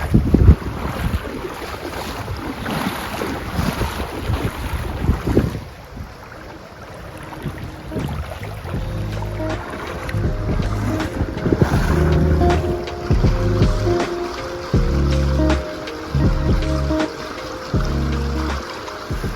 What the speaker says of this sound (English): Time to ford the river.